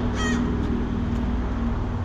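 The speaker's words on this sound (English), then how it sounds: "A big crow." A big crow gives a single loud caw near the start, then steady outdoor street background with no further calls.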